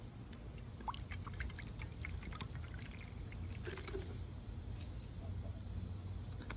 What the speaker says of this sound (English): After pouring the water,